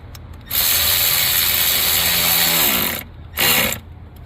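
A power tool drives a screw down on a Chevy throttle pedal position sensor, giving a loud close ratcheting whir lasting over two seconds, then a short second burst after a pause.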